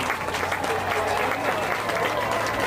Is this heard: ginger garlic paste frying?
no